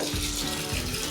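Water gushes steadily into a tile adhesive mix, a loud, close, continuous pour with a rough, broadband splash.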